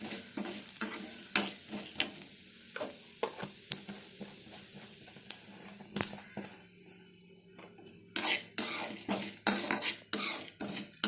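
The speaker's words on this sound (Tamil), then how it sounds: "நம்ம எண்ணெயில் ஃப்ரை பண்ணுறதுனால கொஞ்சம் மொறு மொறுன்னு இருக்கும்" Chana dal and urad dal frying in oil in a pan, with a low sizzle under frequent sharp clicks and scrapes of a metal spoon stirring against the pan, getting busier and louder toward the end.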